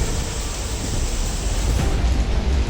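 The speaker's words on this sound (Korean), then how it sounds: "바람과 돌풍의 동반한 바람소리가 들습니다" Wind gusts during heavy outdoor rain make a dense, steady roar of broadband noise, loud and close, with no voices over it.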